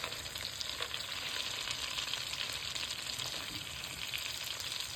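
Shrimp fry in salted butter that is still melting from frozen, producing a dense, even sizzle that runs unbroken at a fairly quiet level.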